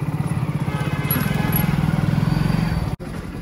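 A motorcycle engine on a bike taxi ride thrums with a rapid, steady low pulse, close and loud throughout, briefly cutting out near the end before resuming.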